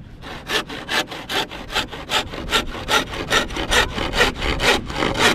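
Hand saw cutting through wood in quick, even back-and-forth strokes, each rasping pass distinct and close, about a dozen and a half strokes in a steady rhythm with no talking.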